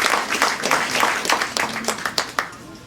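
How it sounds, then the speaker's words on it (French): An audience at a dinner event applauds in a short, uneven burst of clapping, moderately loud and fairly close, with some scattered individual claps. "Je vous demande de leur applaudir une fois de plus."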